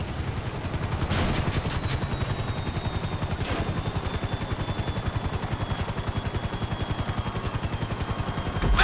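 An aircraft in flight in Grand Theft Auto V, heard as a steady, fast, pulsing rotor-like beat that stays loud and close throughout, with a low engine drone underneath and a few passing noise swells.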